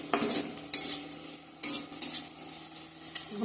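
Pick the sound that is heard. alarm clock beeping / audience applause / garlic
garlic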